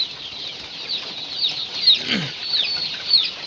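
Sonali Classic chickens raised on a slatted floor in a poultry shed make a continuous chorus of clucks and chirps, fairly loud and close, with occasional rising calls standing out.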